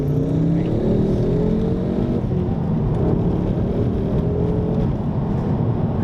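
Ford Focus ST pulling hard in second gear, a loud steady engine drone with rising harmonics filling the cabin throughout, no talk over it.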